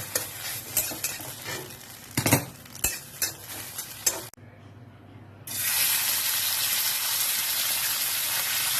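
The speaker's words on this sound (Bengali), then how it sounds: "এবার একটু চিকেনটাকে ভাজা করে নেব।" Chicken seasoned with black pepper and soy sauce is stir-fried in a pan for chowmein. Several scraping stirs and clinks of a utensil come first, then a short lull, then a loud, steady sizzle close by.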